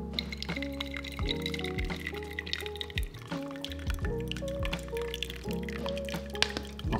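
Hot water is poured steadily from a kettle into a coffee drip bag for about seven seconds, a soft continuous trickle running under louder background music.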